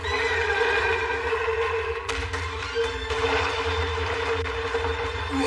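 A horse whinnies over a steady low rumble and dense background noise, with occasional thuds, in an animated fantasy battle scene.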